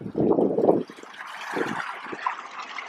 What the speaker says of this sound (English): here's a nice pretty waterfall again at the cancer center